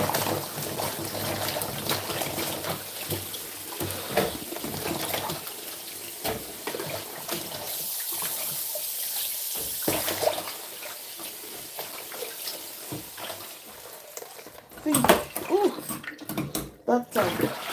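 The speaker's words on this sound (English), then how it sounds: "I have my sink drainer set at a place where things will hardly escape, but water will still drain" Water running into a kitchen sink fitted with a drainer, a steady splashing stream with clinks and handling noises, fading and surging, with someone talking over it at times.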